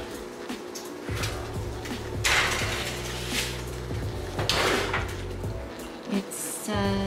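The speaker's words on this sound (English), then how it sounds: "Put it in the oven now." Brownie pan going into the oven, a cluster of metallic clunks and clatter from pan and oven rack, with a door knocking shut, close and moderately loud amid kitchen handling noise.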